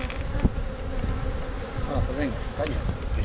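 Honey bees hum steadily at an open hive, a dense close buzz that fills the whole stretch, with a few individual bees passing near.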